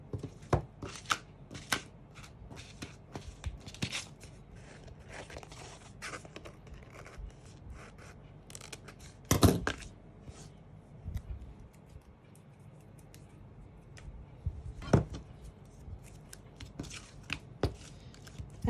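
Scissors snipping tape during assembly of a craft photo album box. Scattered close snips and clicks ring out over several seconds, with handling rustle between them and a couple of louder cuts.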